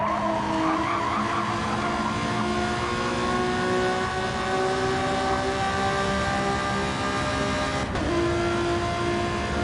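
Gr.4 race car in a racing video game, engine droning steadily at high revs throughout with tire squeal and skidding over it, a brief sharp shift or clunk near the end, no talking.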